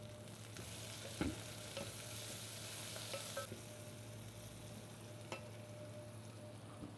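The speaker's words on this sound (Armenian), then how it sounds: "Տապակվեց սոխը" Chopped onion frying in a pan for a soup, a quiet, even sizzle throughout with a few soft clicks and stirring taps.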